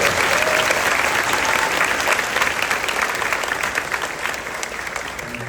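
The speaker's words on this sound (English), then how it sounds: "Let's give those little students a round of applause." Audience applause at an 8th grade middle school graduation ceremony, sustained dense clapping from a large crowd, loud at first and slowly thinning toward the end.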